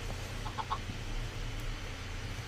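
Soft Minecraft chicken clucks, a few brief blips near the start over a low steady hum in the video game's farm setting, faint and with no talking.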